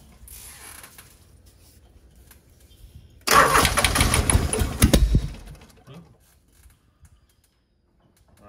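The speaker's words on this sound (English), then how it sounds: "Sounds like I got the timings off a little bit, backfiring through the carburetor" Genie GS3268RT scissor lift engine cranked on ether with the carburetor backfiring: quiet creaks, then a loud sputtering burst of cranking and popping for about two seconds that fades away.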